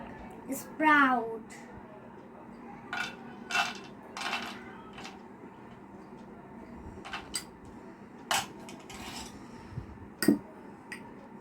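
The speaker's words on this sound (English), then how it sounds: "Mix all vegetable and sprout." Vegetables and sprouts are tossed together in a bowl during a fireless cooking competition, giving intermittent scraping, clinking utensil knocks and rustles at irregular intervals, with a voice briefly heard between them.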